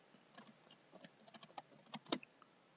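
Faint, quick computer-keyboard typing of a search query, a scattered run of light key clicks with one brief louder burst near the end, no talking.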